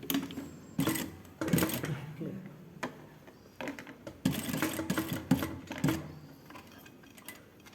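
A sewing machine stitching the shoulder seam of a blouse, running in several short mechanical bursts separated by pauses, close and fairly quiet, with faint handling noises between runs.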